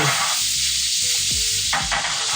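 An Arctic Garden vegetable blend drops into a hot pan and sizzles steadily, with stirring scrapes and clinks of a utensil against the pan, loud and close, no talking.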